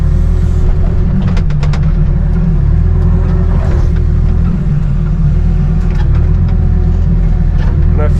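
A heavy excavator's diesel engine drones steadily and loud while clearing trees at an off-grid property, a constant low rumble with faint clanks and creaks on top throughout.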